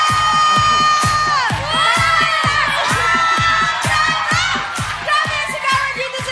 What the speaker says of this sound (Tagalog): Grabe ang sigawan dito sa studio.